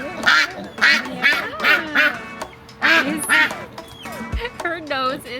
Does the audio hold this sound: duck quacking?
yes